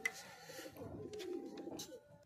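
A male and female pair of pigeons coo softly in low, throaty murmurs, with faint chirps and rustling around them, fairly quiet and close by.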